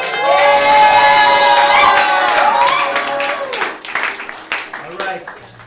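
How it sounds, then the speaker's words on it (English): An audience claps and cheers for improv performers taking a bow at a Whose Line show in St Pete, with loud whooping voices over steady applause that thins toward the end. "Give them a round of applause."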